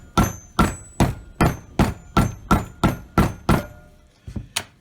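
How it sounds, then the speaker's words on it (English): Rubber mallet pounding a wheel bearing race into a VW Beetle hub on a workbench: ten evenly spaced, loud, close thuds in a steady rhythm, then a pause and a couple of lighter taps. "I always use a rubber mallet and just pound it in."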